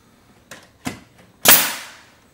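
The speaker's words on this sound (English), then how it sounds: "that's just bringing a nail down from molding into the molding so you're not shooting into the wall" Nail gun driving nails into chair rail moulding, with two quieter close pops followed by one sharp loud snap that rings out briefly, no talking.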